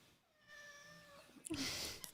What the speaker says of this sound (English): We're gonna have Kitty in the microphone in a second